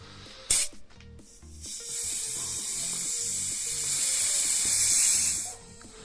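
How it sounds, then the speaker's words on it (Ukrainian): Residual air hisses out steadily as a home autoclave is vented, a loud close continuous jet of escaping pressure lasting several seconds after a brief sharp burst, with faint rhythmic mechanical ticking underneath. "Зараз беремо потихеньку стравлюємо воздух, який залишився."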